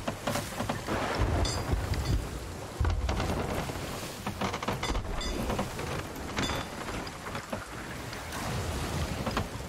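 In the Sea of Thieves game, a thunderstorm lashes a sailing ship, with heavy, continuous rain and rolling thunder swells alongside wind and creaking, all loud and dense without speech.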